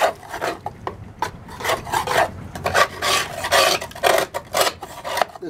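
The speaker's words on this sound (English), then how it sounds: "scrape all the heavy stuff off" Close, loud rasping scrapes as heavy caked buildup is scraped off the deck of a roughly 15-year-old Toro Personal Pace mower, in quick irregular strokes with short pauses between them.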